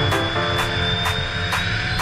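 Vision Jet SF50 jet aircraft beginning its takeoff roll on the runway, a loud steady jet engine roar with a high whine held close throughout, swelling in regular soft pulses.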